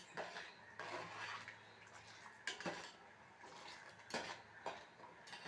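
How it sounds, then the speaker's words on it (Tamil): Filtered jaggery syrup for adhirasam being stirred in a metal pot, with a spoon scraping and clinking in a few separate strokes. It sounds close but quiet, over a faint background hum. "இப்போ இதை நல்லா துழவிக்கிட்டே இருக்கணும் நம்ம இந்த மாதிரி"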